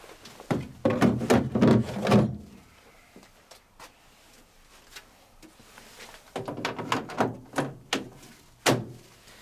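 The water tank of a Candy GrandO Comfort GOC590 9kg condenser dryer is pulled out and emptied, with two spells of close clattering knocks and thuds separated by a quieter pause, then a few sharper final clunks.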